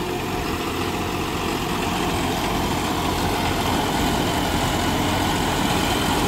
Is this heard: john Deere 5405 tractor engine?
yes